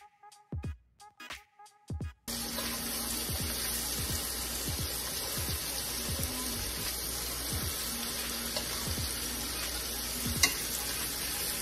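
Pork chops frying in oil in a pan, a steady dense sizzle that starts abruptly after a few brief knocks and holds evenly, with faint rhythmic low thumps beneath.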